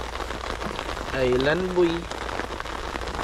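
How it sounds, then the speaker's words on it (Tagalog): Steady patter of rain drumming on a roof fills the background while someone speaks briefly over it. "Rinig niyo ba ang ulan? Ang patak."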